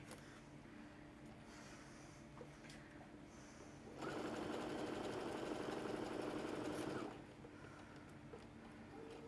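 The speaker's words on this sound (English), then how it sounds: "Okay, so we're just going to sew" A sewing machine stitches fabric for a large teacher bag, with a close, steady mechanical whirr that runs for about three seconds in the middle, framed by quiet room tone.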